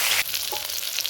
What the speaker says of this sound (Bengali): আমি সবজিটা ভালো করে ভেজে নেব।